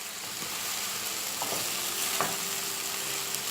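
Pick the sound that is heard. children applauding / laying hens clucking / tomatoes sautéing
tomatoes sautéing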